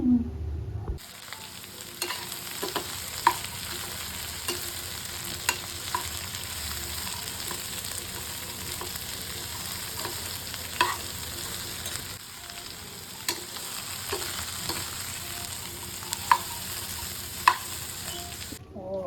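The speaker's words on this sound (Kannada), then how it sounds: "ಇವಾಗ ಪಲ್ಯ ಮಾಡ್ತಾಯಿದ್ದೀನಿ ಚಪಾತಿಗೆ, ಕುಂಬಳಕಾಯಿ ಪಲ್ಯ" Pumpkin curry sizzles in a pan while a utensil scrapes and stirs now and then, a soft, steady frying hiss with occasional clicks against the pan.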